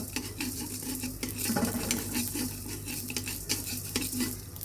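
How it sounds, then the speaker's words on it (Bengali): Coriander seeds dry roasting in a pan, giving a steady close crackle and rustle as they are stirred, with occasional light scrapes against the pan. "1 চামচ বড় ধনিয়া আমরা টেলে নিব"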